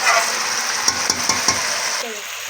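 Boiled chana daal tipped into frying onions in a karahi and stirred, a steady sizzle with a few soft scrapes of the spoon, close and alone.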